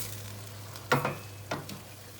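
Green beans with tomato and onion are stirred in a pot for a Turkish summer dish, making two short scraping, sizzling sweeps over a quiet low hum.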